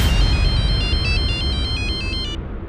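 Telephone ringing on an outgoing call, a loud, repeating electronic ringback tone of rapid warbling pulses that runs steadily and then cuts off abruptly, with no voices.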